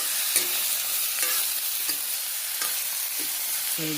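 Food frying in a pan is stirred with a spatula in repeated scrapes and clicks, about one every half second, over a constant loud sizzle. The stirring is close and there is no speech.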